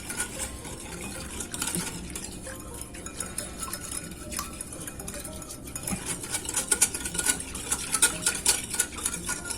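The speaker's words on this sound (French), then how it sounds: "Et on va mélanger pour que la levure commence à s'activer." Yeast and sugar being stirred in a bowl, a spoon scraping and tapping against the sides in a steady, uneven rhythm, close and fairly soft with no talking.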